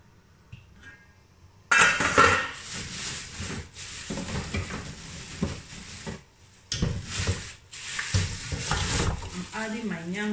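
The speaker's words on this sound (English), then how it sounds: "my water is already on the fire, so I'm going to add my yam straight to it" Yam pieces go into a pot of boiling water on the fire for yam and beans porridge, giving a loud burst of splashing and bubbling with scraping and stirring that comes in and out over several seconds, close up.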